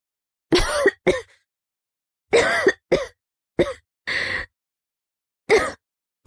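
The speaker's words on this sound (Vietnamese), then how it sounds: "chỉ là ho khan một chút thôi mà" A woman's dry cough sounds in short, harsh bursts, close and loud, mostly in pairs with silent gaps between, about eight coughs in all.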